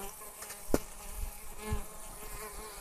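Honeybees buzz steadily nearby at a hive, a continuous insect drone with a couple of brief louder bumps.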